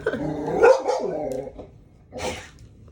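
A dog barks a few times close by, a growly bark followed by a shorter yap after a pause.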